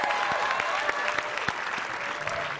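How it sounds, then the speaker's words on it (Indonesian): Studio audience applause on an Indonesian television talk show, a dense, steady wash of many hands clapping close by at a constant level with a few sharper individual claps standing out. "kita juga tepuk tangan untuk penonton di studio"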